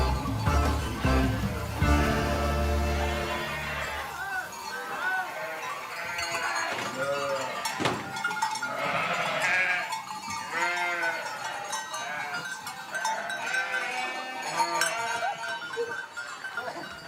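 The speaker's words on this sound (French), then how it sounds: "C'est l'arrivée à la bergerie de Karl Erny" A flock of sheep arriving at a sheepfold in the Swiss alpine pastures, with many overlapping bleats near and far and clanking bells, continuing steadily throughout.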